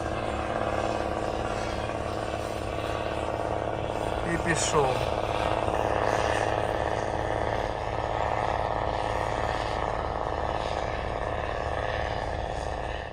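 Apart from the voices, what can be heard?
Slobozhanets tractor with Optikon four-furrow reversible plough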